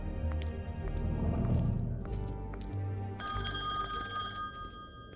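A telephone rings in The Wolf Among Us, its electronic bell tone entering partway through and sustaining over a low, busy game score and ambience.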